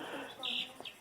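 Young chickens chirping, a couple of short high peeps close by over a soft murmuring background.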